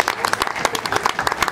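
An audience at a cricket league opening ceremony applauding, close and lively, with individual hand claps standing out in an uneven rhythm.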